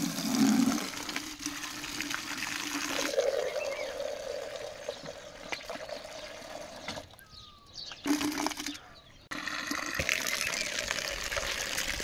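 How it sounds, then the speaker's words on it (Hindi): Water pours and gushes steadily onto a vegetable patch in a village garden, a close, continuous rushing flow with brief breaks and shifts in tone as the stream moves. "ये देखिए सब्जी में पानी डालनी है।"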